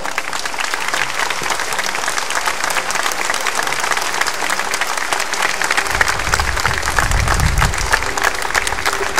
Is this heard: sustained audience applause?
yes